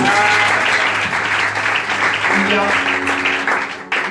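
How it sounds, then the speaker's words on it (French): A church congregation claps loudly for the Lord during a prophetic anointing service: sustained, dense applause from a large crowd, with shouting and voices over it and some musical tones underneath. "Acclamez très fort pour le Seigneur"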